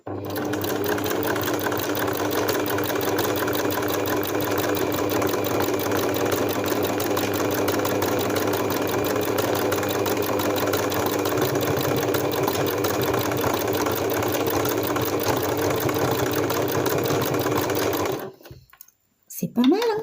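A sewing machine embroidering a sunflower runs at a steady fast hum and clatter for about eighteen seconds, close and loud, then stops abruptly, followed by a brief handling noise.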